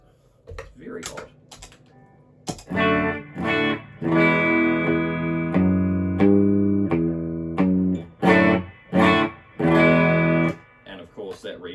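An electric guitar plays through a boogie-style amp with heavy reverb and an effects loop, sustained chords and single notes ringing out with a wet, washy tail, broken by pick scrapes, muted stops and short gaps.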